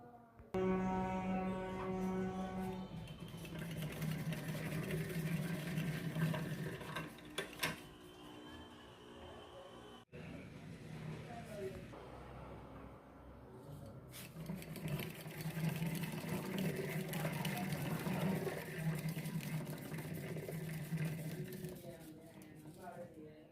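Mechanical whirring of a coil winding machine spooling copper wire for rewinding a Suguna grinder motor, steady and continuous at close range with a brief pause midway, and speech audible at times over it.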